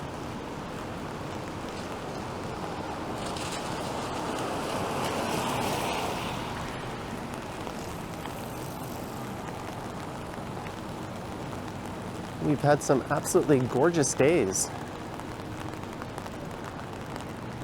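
Steady rain hisses onto a downtown Toronto street on Bay Street in April, a constant broadband wash throughout, with a nearby voice talking briefly near the end.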